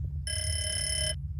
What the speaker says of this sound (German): Telefon, hier oben im Flur.